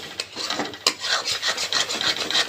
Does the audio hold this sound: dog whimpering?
no